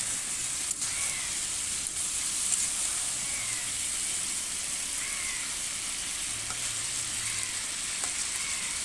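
Chicken curry with potatoes sautéing in a pan, a steady broadband sizzle running throughout with faint spoon scrapes, close and even, no talking.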